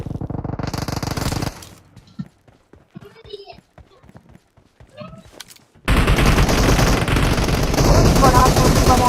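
Gunfire in the battle game PUBG bursts in rapid automatic volleys, loud and dense at first, then sparse scattered shots, then a sustained heavy barrage, with game voices and chatter mixed in.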